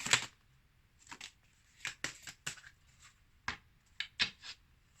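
Tarot cards being shuffled and handled in quick, papery bursts, some single flicks and some clustered riffles, close and fairly quiet with silent gaps between.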